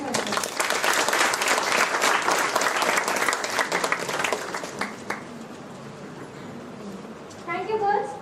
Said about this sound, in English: A big round of applause to Mr. M.S.